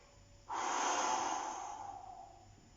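One long, heavy exhaled breath during a renfo-cardio workout session, starting abruptly, loud and close, then fading slowly over about two seconds with no speech.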